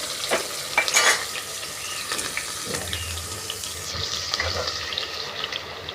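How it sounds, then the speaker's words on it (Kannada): Onion hitting hot oil already crackling with mustard seeds and cumin in a pan, a close, steady sizzle with stirring scrapes and a few sharper clatters near the start, no voices. "ಇವಾಗ ಈರುಳ್ಳಿ ಹಾಕ್ತಾಯಿದ್ದೀನಿ."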